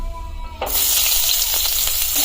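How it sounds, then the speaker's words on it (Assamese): Chopped onions dropped into oil left from frying fish, a quiet moment breaking into a loud, close burst of sizzling that keeps hissing steadily with light stirring. "তাতে মই এটা পিয়াজখিনি দি দিম কাটি থোৱা পিয়াজখিনি দি দিম"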